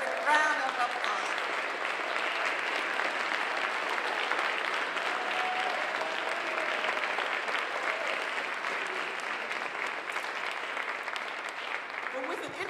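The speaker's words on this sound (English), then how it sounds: "Let's give Terri Sewell a 13th Congressional District round of applause" Sustained applause from an audience at a congressional lecture event honoring a congresswoman, steady and dense throughout, with faint voices and cheers mixed in before a speaker begins.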